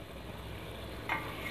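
A low, steady sizzle of egg mince with sliced green chillies and coriander frying in a pan, with a brief stirring scrape near the end; quiet and without talk.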